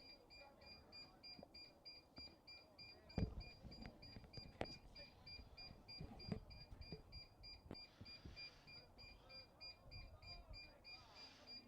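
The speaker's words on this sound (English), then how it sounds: "I'm not sure what that beeping noise is going on behind me" A beeping noise behind a commentator at a Division One college baseball game between Coppin State and Lehigh: faint, repeated high electronic beeps that pulse in the background under ongoing talk and crowd ambience.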